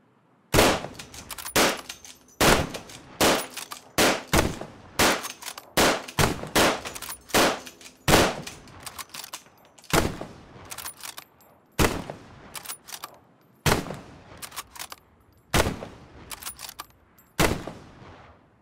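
A Lee-Enfield SMLE No. 1 Mk III rifle firing in the World War II game Hell Let Loose. About fifteen loud, sharp single shots ring out with short reverberant tails, spaced by brief bolt-cycling pauses and a longer gap for reloading.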